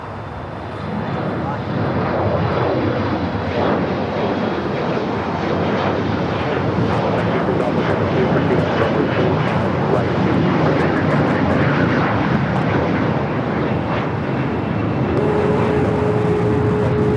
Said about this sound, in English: a China Airlines cargo flight 5138 coming up from Taipei, a 777 freighter, number 2 for arrival